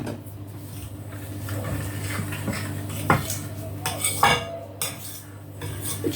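Oreo cookie crumbs being stirred in a bowl, with a spoon clinking and scraping against the sides in irregular close taps over a soft, steady background.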